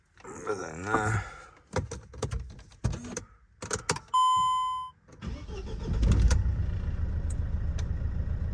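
A 2008 Mercedes Vito engine cranks and starts around the five-second mark and then settles into a steady, close idle, with a few clicks, an electronic beep tone and a brief voice just beforehand.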